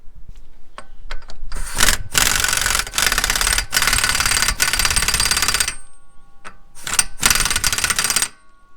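An impact wrench hammers wheel bearing bolts tight on a Subaru Forester, giving several loud, close rattling bursts of about a second each, separated by short pauses and light clicks.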